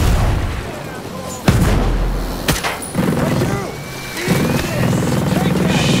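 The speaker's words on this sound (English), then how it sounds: "Watch out, grenade!" A grenade blast in the Ghost Recon shooter game, a sudden loud boom standing out amid ongoing gunfire and battle noise, with people talking and shouting over the action.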